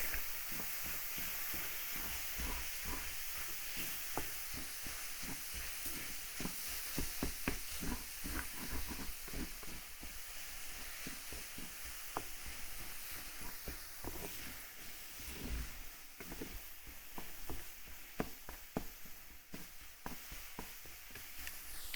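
Tofu pieces coated with turmeric sizzle steadily in a hot pan while being stirred, a continuous close hiss broken by frequent clicks and scrapes of the utensil against the pan.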